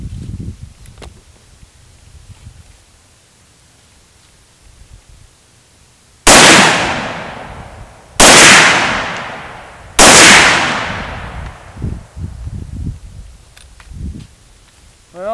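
Three loud, sharp rifle shots from an MSAR STG-556 being test-fired with a new bolt crack out about two seconds apart outdoors, each with a long echoing tail, followed by metallic clatter and handling noise.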